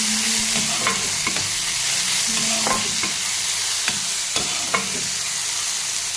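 Onions, green chillies and tomatoes frying in a pan, a steady loud sizzle running throughout while a spoon stirs and scrapes, giving repeated knocks and clinks at an uneven pace, close up, with no voices.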